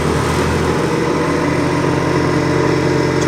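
An air compressor on a mechanics crane truck runs in a steady, loud, close drone with a throbbing mechanical pulse, continuous for a few seconds with no talk.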